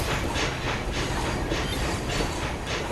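A Shay geared steam locomotive rolls along rails in a railroad simulation game, its steady rhythmic clickety-clack of wheels over track joints filling the scene with a dense, even rumble and no voices.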